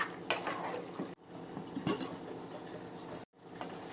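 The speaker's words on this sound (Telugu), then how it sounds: "ఇప్పుడు స్టవ్ సిమ్లో పెట్టి ఒకసారి కలిపి మూత పెట్టేసుకుందాం." Chicken gongura being stirred in a cooking pot on a low flame, with scraping, clinking metal-on-pot contact and a lid set down, broken by brief gaps of silence; close and moderately loud.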